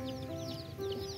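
Chickens cluck and chirp in quick overlapping calls against a steady tonal background hum, fairly busy and close.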